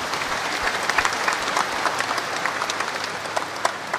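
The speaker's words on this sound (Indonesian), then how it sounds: "Kita tepuk tangan untuk mereka ini." A church congregation applauds long-married couples during a bishop's homily, steady crowd clapping with scattered sharper claps, moderately near and continuous throughout.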